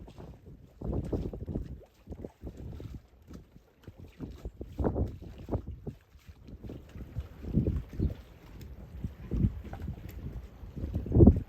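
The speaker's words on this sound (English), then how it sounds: "We do see a dinghy coming finally." A small dinghy approaches a sailboat at anchor, its motor and hull slapping through choppy water in uneven low rumbling surges, with wind buffeting the microphone and no voices.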